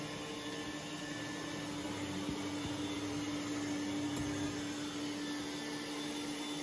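An iRobot Roomba S9+ robot vacuum running on high power over thick carpet during a rice pickup test, giving a steady, continuous whirring hum with a faint tonal whine, close and unbroken, with no talk.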